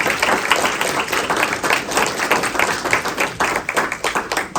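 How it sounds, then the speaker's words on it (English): Applause rings out close and loud at a pediatric stroke panel discussion for the series director, dense individual claps in an uneven, lively rhythm throughout. "A round of applause for Mara and the work that she's been doing."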